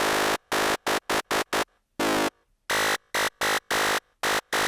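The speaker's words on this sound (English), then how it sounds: "And even bubbly sounds like this." Bubbly, burbling FM synth tones in a run of short, choppy bursts separated by silences, with a couple of longer sustained notes, loud and up close.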